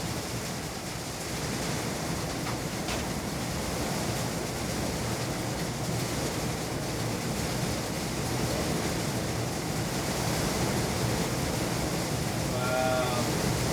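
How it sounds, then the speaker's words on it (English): Heavy rain pours down in a steady, dense wash that holds at an even level throughout, with no talk over it. "It's really pouring now."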